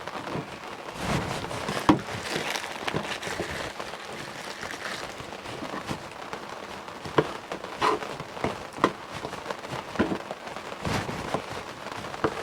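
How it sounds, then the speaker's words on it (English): Steady rain patters on a surface, with scattered louder drips and taps breaking through the soft continuous wash. "You might hear that it's raining today."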